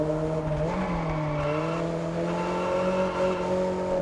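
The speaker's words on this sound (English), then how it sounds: "Bit of an underwhelming exhaust tone, but the gear change sounds good." A steady sports car engine drone in a racing video game, Test Drive Unlimited Solar Crown, with strong humming harmonics, its pitch dipping and shifting briefly as a gear changes, sustained throughout.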